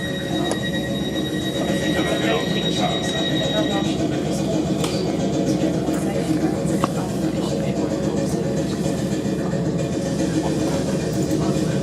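A South West Trains carriage rumbles along the line between Teddington and Fulwell, a steady loud interior roar with a faint high wheel squeal early on and occasional rattles and clunks.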